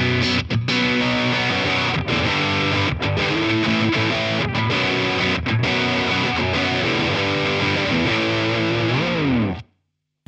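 An electric guitar played through a BOSS BD-2 overdrive pedal set to high gain rings out in crunchy distorted chords, strummed rhythmically for about ten seconds before cutting to silence.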